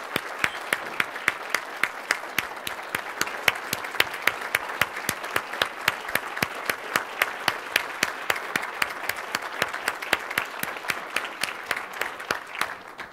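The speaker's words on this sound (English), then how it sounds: "We didn't get a chance to really applaud that." An audience at a bilingual talk on imagining Canada's future breaks into sustained, dense applause, many hands clapping steadily and fairly close for the whole stretch without talk.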